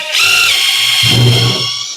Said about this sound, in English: we're going to drill these holes now